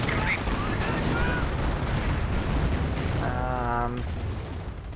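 Dense, continuous battlefield din of gunfire and artillery in the World War II strategy game Company of Heroes, loud and unbroken for about five seconds, with a brief voice-like call from the game near the end.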